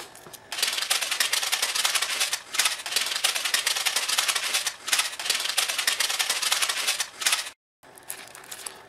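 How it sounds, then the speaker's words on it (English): Tape being pulled and pressed along the seams of a paper maraca cube, close crackly ripping and crinkling in long bursts with short pauses. "And we're going to tape the seams around that."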